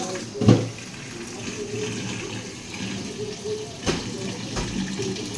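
Tap water runs steadily while mangoes are rinsed, a continuous splashing hiss with a few sharper splashes and knocks near the start and middle.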